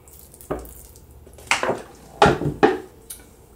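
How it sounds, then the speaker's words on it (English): Several short splashy bursts of water poured in quick spurts, a few seconds apart, with quiet gaps between. "Just give them some more water."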